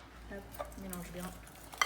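A plant-based hair dye paste mixed with water is stirred briskly in a bowl, giving a short, close, wet scraping and squishing sound with a faint click at the end.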